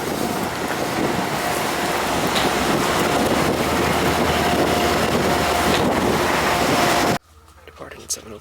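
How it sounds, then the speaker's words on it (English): Wind gusting through a rainstorm, a loud buffeting roar against the microphone that holds steady, then cuts off abruptly near the end to a quiet background. "Windy too."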